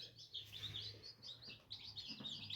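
Newly hatched chicks from an incubator chirping in quick, high, overlapping peeps, close and steady throughout, with a low hum underneath and no talk.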